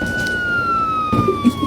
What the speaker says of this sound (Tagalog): Nagulat ako dun sa tunog ng pulis eh